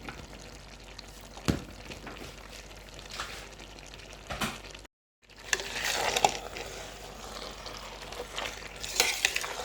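Gizzard, fish and tomato frying together in a pot for Cameroonian cornchaff, a steady crackling sizzle broken by stirring scrapes and clinks, with a brief silent gap midway before the frying noise returns louder.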